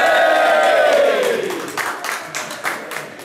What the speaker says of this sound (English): Can we have a cheer for the press conference group?